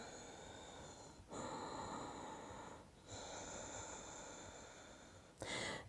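Soft, steady breathing during a yoga stretch in a morning flow class, quiet and close, with a few brief pauses between long drawn breaths.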